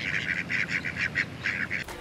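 Wild ducks at the reflecting pond of Penn State Altoona's campus give a rapid series of about a dozen loud, nasal quacks and honks close by, then fall silent.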